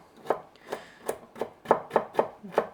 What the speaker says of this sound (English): I'll cut it lengthwise and then across.